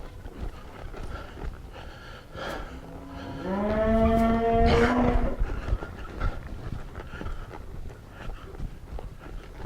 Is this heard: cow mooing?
yes